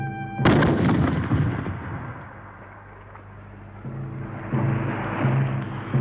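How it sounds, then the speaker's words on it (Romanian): A single ship's cannon fires with a sudden loud boom early on, then rumbles and fades into a long echoing tail with faint background activity. "Să tragem o lovitură de tun."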